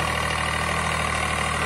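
A Swaraj tractor with a cultivator runs in high-range first gear, its diesel engine giving a steady, close, low throbbing drone with no pauses.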